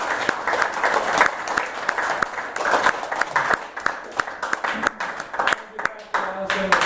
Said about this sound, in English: so it's a round of applause for that.